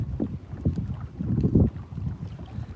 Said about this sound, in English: I know it's really windy out here.